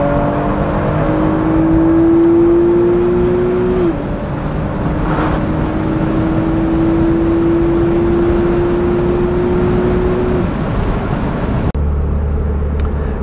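Porsche 997 Speedster from 2011 in Sport Plus mode, its engine revving hard toward 7,500 rpm with a sustained rising whine, a brief dip near the middle before climbing again, close and loud with no talk, cutting off near the end.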